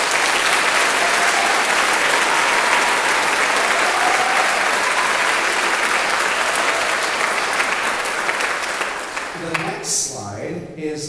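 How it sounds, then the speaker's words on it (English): A concert audience gives a long, loud round of sustained clapping for high school choir students, a dense steady roar that tapers off near the end as a voice begins. "Can we give them a round of applause,"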